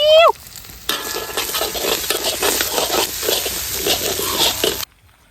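Curry leaves and coriander hitting hot oil in a pan, starting with a brief squeak, then a bright crackling sizzle with stirring scrapes for about four seconds before cutting off, close and moderately loud.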